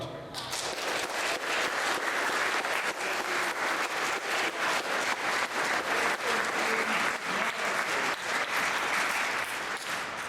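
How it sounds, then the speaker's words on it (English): Audience at a political hustings on London housing giving sustained applause, a dense, steady wash of many clapping hands lasting the full ten seconds at a moderate level. "we're encouraging you to applaud for those candidates when you agree with them"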